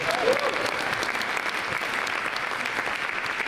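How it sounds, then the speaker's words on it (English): At a national gala, an audience gives sustained, evenly dense applause for children who performed songs, many hands clapping loudly and continuously. "And a big round of applause to the kids who performed the songs."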